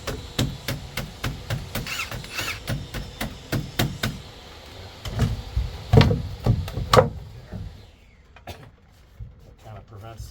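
Sharp hammer blows land on wood during repair of sagging floor joists with 2x6 lumber in an old Route 66 building, a rapid run of close, loud strikes, then a few scattered knocks as someone talks.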